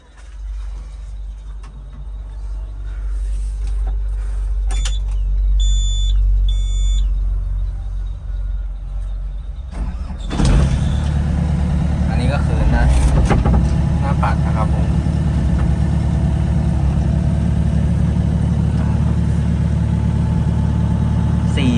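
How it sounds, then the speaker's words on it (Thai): A low hum and a few electronic beeps, then the heavy diesel engine of an XCMG XE60DA excavator cranks and fires up, settling into a loud, steady idle. "มาฟังเสียงเครื่องยนต์กันด้วยครับ แล้วผมสตาร์ทให้ลูกค้าได้รับชม"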